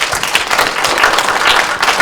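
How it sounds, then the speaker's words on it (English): Audience at a university talk giving a steady round of applause, dense continuous clapping from many hands throughout, with no voices standing out. "let us give him a hand of applause again"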